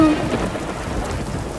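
Steady rain pattering down with a low rumble beneath it, continuous and fairly loud, with no voices.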